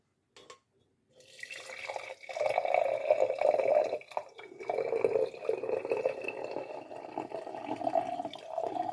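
Herbal tea poured from a container through a fine mesh strainer into a cup, a steady trickling liquid stream that starts after a brief pause and runs continuously, close and moderately loud with no talk.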